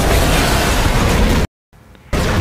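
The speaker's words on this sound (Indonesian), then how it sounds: "menyulut api hingga meledakkan seisi bangunan itu" A huge film explosion as fire blows apart an entire building, swallowing a giant snake on an island: a loud, sustained roaring blast that cuts abruptly to silence, then a low rumbling tail before the roar returns.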